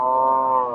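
A Friesian dairy cow at a cattle market gives one loud, sustained moo close by, with no talk over it.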